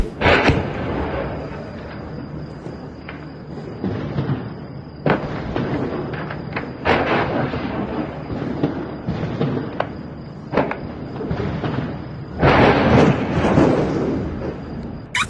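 Repeated loud blasts from Israeli strikes on Lebanon, a series of heavy booms at irregular intervals with a strong burst near the end, over a constant background hum and no talk.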